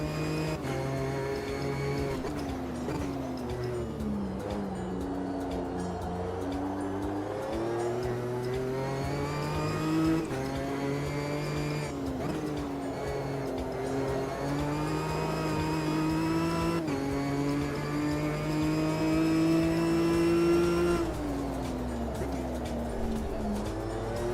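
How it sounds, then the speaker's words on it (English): A GT4 race car engine in a racing video game at Brands Hatch roars steadily throughout, its pitch climbing and falling as it revs through gear changes, loud and close with no voices. "This car's sound is quite similar to the real one"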